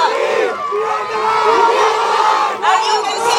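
A hall full of school students roars and cheers loudly after their house wins the trophy at a school annual day, with sustained shouting and whooping from a large crowd that dips briefly before surging again.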